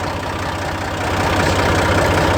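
A tiller engine fitted with an earth auger attachment runs steadily at high revs, a loud continuous mechanical drone with a rapid low knocking pulse and no pauses.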